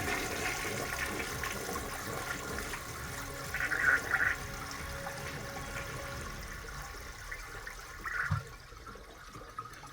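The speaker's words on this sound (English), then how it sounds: "There's also a half flush that way." A repaired toilet doing a half flush: close, continuous rushing water that stays fairly even for several seconds, with brief surges partway through, then eases off into quieter refilling.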